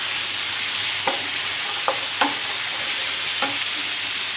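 Golden onions frying with ginger garlic paste for a Bihari-style dahi baingan masala hiss softly and steadily in the pan, broken by four sharp scraping stirs of a spoon.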